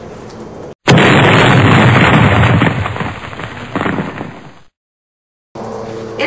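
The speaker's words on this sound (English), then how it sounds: "we only recovered the audio from the explosion" A sudden loud explosion bursts in, followed by a roaring, crackling rumble that fades before cutting to silence.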